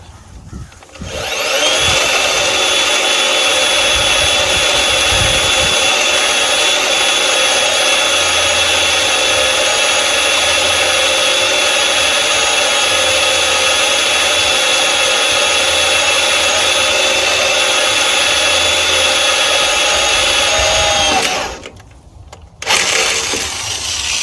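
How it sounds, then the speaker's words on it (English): A power drill drilling holes for an air tank bracket on a cabover truck whines loudly and continuously for about twenty seconds, then cuts off abruptly before a brief restart. "so I'm gonna go ahead and drill it"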